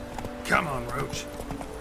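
Roach, Geralt's horse in The Witcher 3, clip-clops along at close range in a short burst of hoofbeats, with a brief whinny-like sound and voices nearby.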